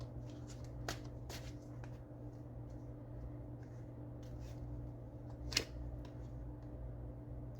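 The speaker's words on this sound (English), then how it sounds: "as soon as I shuffle and pull this other card out of here." Tarot cards shuffled by hand in a quiet room, soft riffling and papery slides with a few sharp snaps of cards, faint and close throughout.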